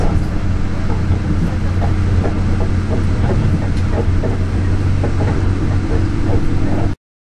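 A steady loud rumble and rhythmic clatter of rails heard from inside a Union Pearson Express train carriage in Toronto while it travels at speed, continuous until cutting off abruptly.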